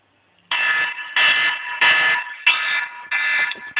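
A debate timer alarm gives a series of loud, harsh electronic buzzes, five or six bursts each roughly half a second long with short gaps, after a moment of silence.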